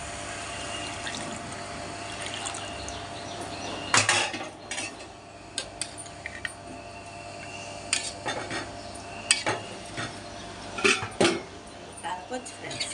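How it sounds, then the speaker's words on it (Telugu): Water goes into a pan of korameenu fish curry with mango, a soft pouring wash under kitchen noise, followed by clanks of utensils and a pot lid against metal, with a voice talking. "ఫ్రెండ్, నీళ్ళు పోసేసుకుందాం."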